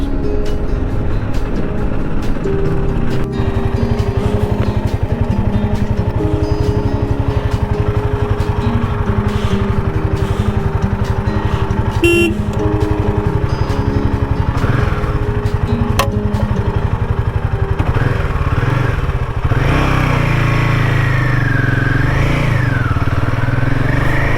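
A motorcycle engine runs loud and close on a winter road in Arunachal Pradesh, a steady rumbling idle with a few throttle surges before the pitch shifts near the end.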